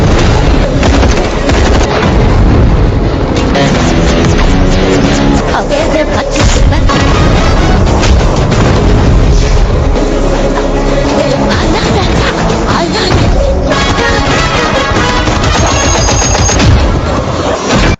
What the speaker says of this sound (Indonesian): Jahat pun meledakkan beberapa titik pelabuhan hanya untuk menghabisi pasukan Ranatungga yang berniat kabur